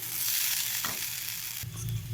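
Food being stirred in a frying pan sizzles loudly and steadily, with a scrape and a fresh surge of sizzle near the end, with no voices.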